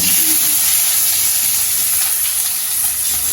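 Onions hit a hot pan while a fish and dried-fish curry is cooked in Jaffna style. A loud, close, steady hiss of sizzling runs unbroken through the moment.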